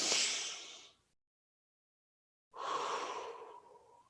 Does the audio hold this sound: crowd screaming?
no